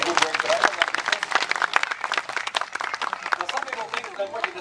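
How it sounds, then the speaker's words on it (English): Spectators at an Australian bird show with trained buzzards clap for the handler, a scattered burst of hand claps rising and thinning over several seconds, with a voice talking over parts of it. "you might want to give her a round of applause."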